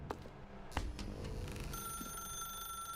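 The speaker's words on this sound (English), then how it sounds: "Now pick up the phone." A telephone in the video game The Stanley Parable rings with a steady electronic trill over a hum of ambient game noise, preceded by a couple of soft thuds.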